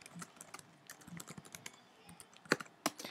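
Keys clatter on a computer keyboard in quick, irregular bursts as a short question is typed, with two louder, sharper keystrokes near the end, close and clear with no talking.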